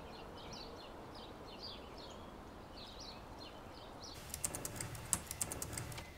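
Typing on a laptop keyboard at home, a quick run of sharp clicks and taps in the last two seconds after a quiet stretch with faint background chirps.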